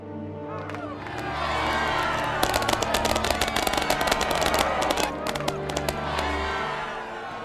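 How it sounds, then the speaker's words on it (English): A crowd in Star Wars: The Old Republic cheers and claps loudly, with rapid crackling bursts like fireworks popping throughout, over a swelling musical backdrop. "How about a round of applause?"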